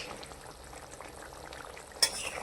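Fish curry with fried fish pieces bubbles steadily in a pan, a soft, even simmering hiss with a brief sharp knock near the end.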